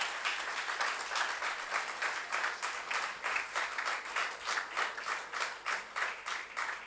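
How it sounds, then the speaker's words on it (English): Audience applause at a book launch, a full room clapping steadily and continuously at moderate volume, with no talk over it. "A big round of applause,"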